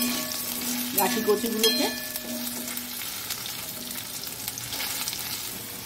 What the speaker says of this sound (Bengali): তেলের মধ্যে দিয়ে দিলাম, এখন একটু ভেজে নেব